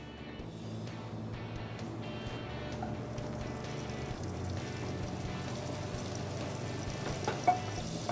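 Butter melting in a pan on a lit burner, a steady soft sizzle and fry hiss running evenly throughout, close and alone.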